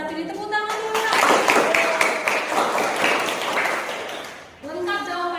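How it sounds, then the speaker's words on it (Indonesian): Students in a classroom break into brisk, scattered clapping for a classmate, rising quickly, holding for about three seconds and then fading, with a teacher's voice before and after. "Tepuk tangan dulu"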